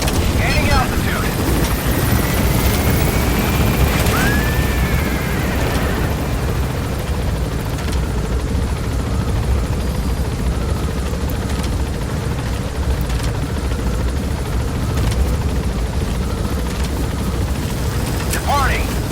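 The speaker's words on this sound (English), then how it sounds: "Gaining altitude." Helicopter climbing in the video game Metal Gear Solid V: The Phantom Pain, a steady loud rotor and engine drone that fills the whole stretch, with faint game sounds layered on top.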